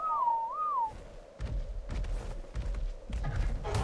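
A player's two-tone whistle command in the video game ARK, a short rising-and-falling tone at the start, followed by a series of soft in-game thumps and footsteps.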